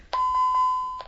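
Electronic door alarm chime from a home security setup, giving a loud steady tone with four short pulsing accents over about a second, heard alone with no voices.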